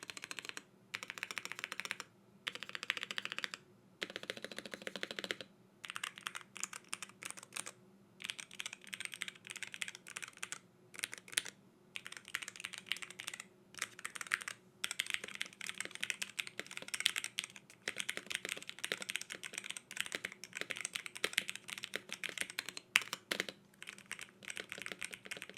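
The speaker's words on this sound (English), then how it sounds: "So as far as the sound and feel of this keyboard, in my honest opinion, it felt and sounded pretty darn good." Steady typing on a Ducky keyboard with inductive switches, close and crisp, rapid keystrokes in bursts with brief pauses, heard alone.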